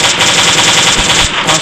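Rapid machine gun fire in the survival game Last Day on Earth, a fast loud rattle of shots repeating evenly for the whole short burst with no voices.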